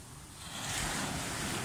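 Waves and wind at Balangan Beach in Bali give a steady, soft wash of surf with wind rumble on the microphone, rising slightly after the first half-second and continuing without pause.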